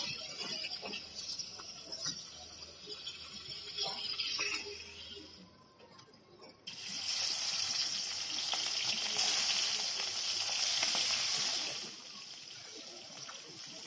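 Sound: fish frying in oil

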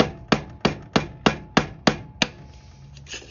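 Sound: hammering an axle seal in with a pipe

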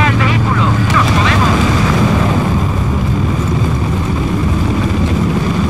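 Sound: helicopter in Battlefield 4 video game

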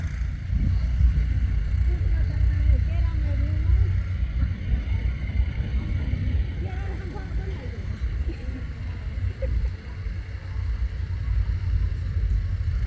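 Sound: tractors running laser land levelers at a farm

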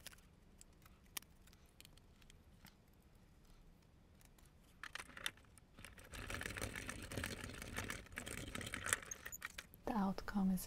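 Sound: Crafter's Companion Gemini MIDI die-cutting machine running

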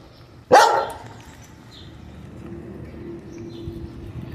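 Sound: dog barking

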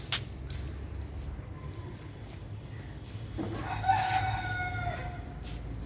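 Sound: rooster crowing

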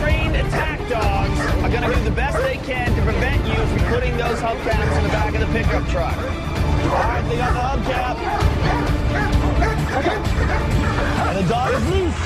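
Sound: bandog dog barking and whimpering

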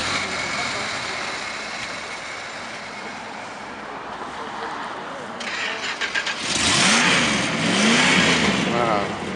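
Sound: 1968 Chrysler 300 440 V8 engine starting and revving

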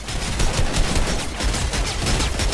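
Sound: automated turret firing in the video game Fortnite

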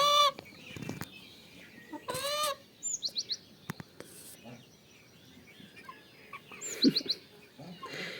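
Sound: chickens clucking

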